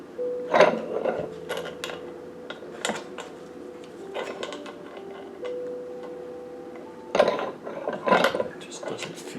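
Small socket ratchet seating a bearing in an OS FS-60 model engine, with scattered clicking ratchet strokes and light metallic taps in a few clusters, close and fairly quiet without speech.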